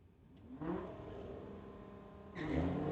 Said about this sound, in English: Racers drive up to the tree.